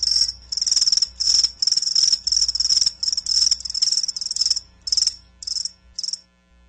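Crickets chirping in rapid bursts, a steady run of high trilling pulses that pause briefly and then resume, loud and close with no talking.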